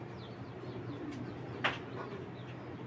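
Soft cooing from a young Super Milly racing pigeon, a male bred from a racing club line, murmuring low and steady close by, with a single sharp click midway.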